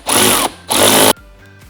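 A power tool fitted with a 12mm socket backing seat bolts out of a 2022+ Toyota Tundra Crewmax, two loud close whirring bursts with a brief gap between, then stopping.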